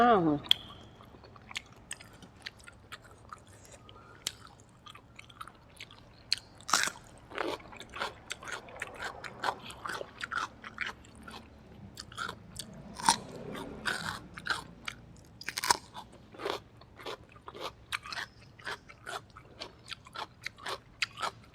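Close-up biting and chewing of grilled Isan fermented sausage eaten with pickled ginger and fresh chili, with crisp crunchy bites and wet mouth sounds in an irregular rhythm over a quiet background.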